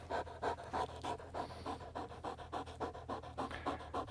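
A dog pants rapidly and rhythmically after a game of tug of war, a steady run of quick breathy pants close to the microphone at moderate volume.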